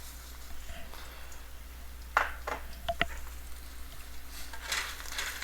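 Half a large chopped onion frying in a pan with salt, a low steady sizzle with a few light clinks of utensils, no talking.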